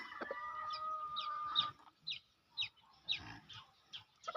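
Chickens cluck in a coop, giving a string of short soft calls at a steady pace over faint background noise, with a longer drawn-out call near the start and no talking.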